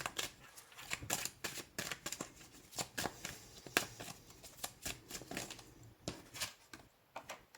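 Tarot cards being handled, shuffled and drawn in a French reading session, giving close, quiet rapid riffling and flicking with soft papery taps.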